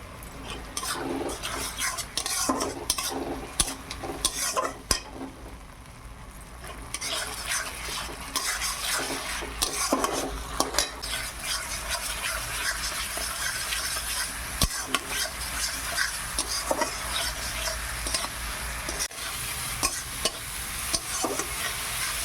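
Ginger-garlic paste being stirred and fried in a pan with onion and tomato, a steady low sizzle under intermittent scraping and clinking of a utensil against the pot, close by with no talk.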